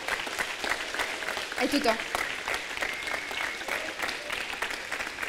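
An audience at a live show applauds the camera operators with steady, dense clapping from many people, while someone briefly speaks over it.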